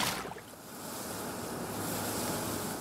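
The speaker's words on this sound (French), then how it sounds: "Le vent est très très fort de l'eau, la mer s'est levée" Rough sea off Corsica churns as waves wash in under strong wind, with heavy buffeting wind noise on the microphone, loud and continuous without any voices.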